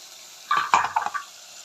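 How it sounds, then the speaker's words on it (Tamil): Ground spice paste for a fish curry goes into hot oil and sizzles in a short burst of bubbling, spattering hiss that lasts under a second and then fades away. "இதை எண்ணெய்க்குள்ளே போட்டுடுவோம்."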